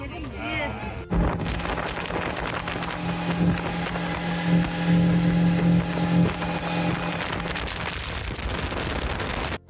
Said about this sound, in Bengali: এখানে স্পিড বোটে আমাদের দারুণ লেগেছে এখানে এলে এই স্পিড বোটের রাইড একেবারেই মিস করবেন না